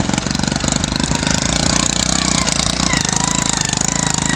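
A motorcycle engine runs steadily on a rough village dirt road, its close, even chugging filling the whole stretch without a break.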